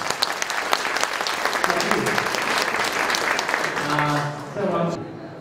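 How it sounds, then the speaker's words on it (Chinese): Applause from an audience at a Baofa Furniture 20th-anniversary and expanded-opening celebration, a dense continuous clatter of many hands that runs throughout and tapers near the end, with voices mixed in. "我们是不是首先给宝发家具掌声表示恭喜？"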